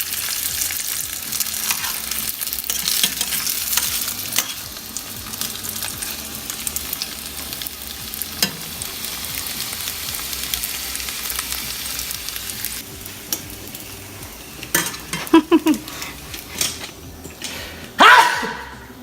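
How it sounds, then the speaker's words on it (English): Steamed vegan hot dogs browning in a pan, a dense continuous sizzle with stirring and scraping, followed by a few sharper clatters near the end. "Give them a quick little fry for some added color and flavor."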